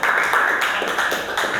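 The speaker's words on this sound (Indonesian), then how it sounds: "kita tepuk tangan untuk" Classroom of students at a vocational high school clapping together in a dense, steady burst of applause, close and loud throughout with no voices over it.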